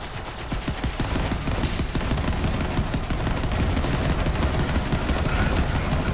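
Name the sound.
Sawbar rifle gunfire in video game Borderlands 3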